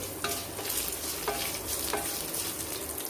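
Cashews frying and being stirred in a hot pan for coconut rice, a steady loud sizzle with a few scraping stirs of a spoon against the pan.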